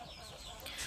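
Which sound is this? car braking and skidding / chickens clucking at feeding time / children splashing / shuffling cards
chickens clucking at feeding time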